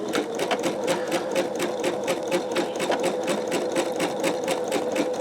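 An embroidery machine stitches a design onto a T-shirt with a loud, close, steady rapid chatter of evenly spaced needle strokes that runs continuously and alone.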